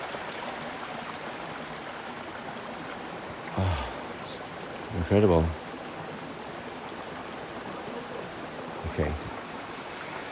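A river flows steadily near Aberfoyle in the Loch Lomond & Trossachs National Park, a constant broadband rush under a few brief spoken remarks.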